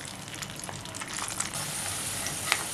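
Garlic fries in oil for Schezwan sauce, making a continuous close hiss with small crackles throughout.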